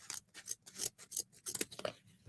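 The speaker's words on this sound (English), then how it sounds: "I'm going to dovetail this really fast with my scissors" Scissors snip quickly through material to cut a dovetail triangle for a Grinch wreath, a close series of about a dozen crisp, irregular cuts with short gaps between them.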